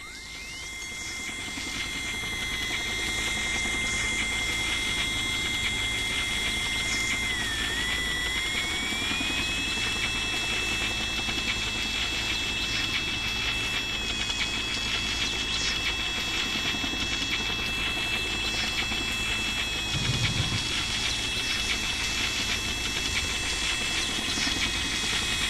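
A helicopter arrives in the I Expect You To Die VR game, its engine whine holding a steady tone over a constant droning rumble, loud and unbroken throughout with no voices.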